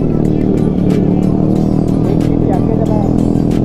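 Royal Enfield GT 650 motorcycle exhaust revving loudly and steadily nearby on a road, a constant rumbling engine drone with bursts of throttle, voices talking over it.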